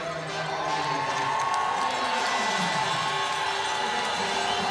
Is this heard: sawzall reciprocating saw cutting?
no